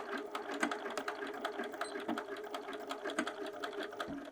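A sewing machine runs steadily at close range, stitching a seam on a fabric bag with rapid mechanical chatter, brief pauses and back tacking at a stress point.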